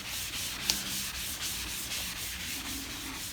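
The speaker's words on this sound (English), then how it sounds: "you want to get all of the corners really good with this Scotch-Brite" A Scotch-Brite pad scuffs a plastic car part in continuous back-and-forth rubbing strokes, a close, steady abrasive hiss with no talking.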